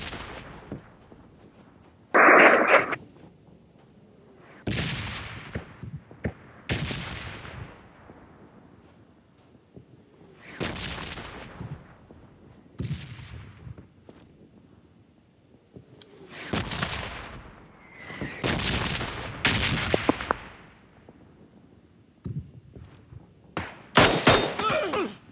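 Bursts of gunfire from the mobile battle-royale game PUBG Mobile, with several separate volleys and single shots spread irregularly across the stretch, loud and sharp against quiet gaps, with no talking.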